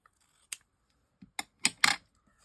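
Scissors snip through a strip of adhesive-backed paper while a front panel is trimmed for a wax-seal card craft, giving a few short, close crisp cuts spread over a few seconds with quiet gaps between.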